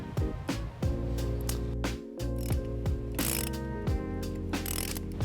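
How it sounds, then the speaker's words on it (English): A 12mm socket on a ratchet loosens the positive battery terminal nut on a 2014 Nissan Sentra, with rapid, close, repeated ratcheting clicks in short bursts throughout. "Now we're going to take a 12mm socket and remove the positive terminal nut."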